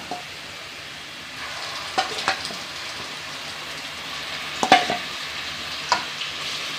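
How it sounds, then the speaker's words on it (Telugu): Chicken pieces frying in hot oil in a pan for chicken curry give a steady, fairly quiet sizzle, with a few sharper pops and spatters breaking through now and then. "ఆయిల్ ఎలాగైందండి, చికెన్ వేసుకుందాం."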